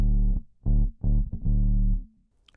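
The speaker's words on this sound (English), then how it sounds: "synthy, sub-bass kind of square wave synth tone" A bass guitar through an octave pedal gives a deep, buzzy synth-style sub-bass with a hollow square-wave tone, playing four sustained notes with short gaps, ending in silence.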